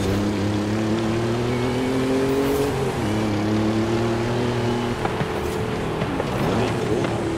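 Ford F150 Raptor racing in the Xbox game Forza Horizon 5, its engine droning steadily and loud, then dipping at a shift before revving on amid race sounds.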